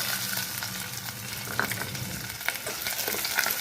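Chopped onions and curry leaves fry in hot oil for a tomato and drumstick curry, a steady loud sizzle with soft stirring clicks and a few sharper pops, no voices.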